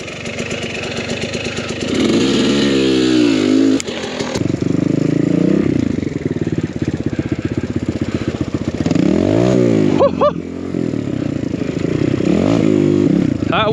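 An enduro motorcycle climbing a forest trail on Vancouver Island, engine loud and close as it revs, bogs and surges in repeated bursts, with brief dips to near idle.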